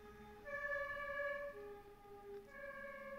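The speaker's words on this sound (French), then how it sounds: "Oh, il y a les pompiers qui vont passer," A French fire engine's two-tone siren passes, its held wail stepping down in pitch and then back up over a few seconds. It is moderately loud and heard from indoors, with no talking.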